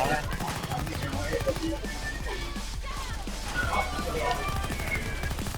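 Rapid gunfire in the heist shooter Payday 2, bursts of shots and impacts crackling close together under a player talking over the action.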